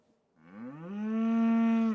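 A single cow on a North Dakota farm lets out one long, loud, rising moo that holds steady before cutting off, close by and alone after a quiet start.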